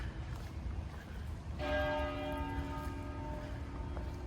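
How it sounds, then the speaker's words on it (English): Church bells of a Baptist church in Savannah start ringing partway through, clear sustained tolling tones layered over steady outdoor background noise. "Hear the bells ringing."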